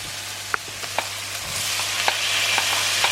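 Chopped tomatoes hit a pan of frying spices for a vegan curry, setting off a steady sizzle with a few scattered sharp spits and stirring clinks, close and fairly loud with no talk.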